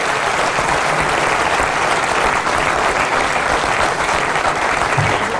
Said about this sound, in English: Come on, give him applause.